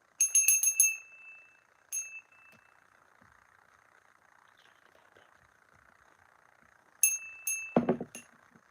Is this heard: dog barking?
no